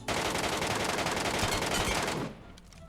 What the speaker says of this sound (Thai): ใช้ MK เก็บเสียงมันจะขึ้นรอยกระสุนไหม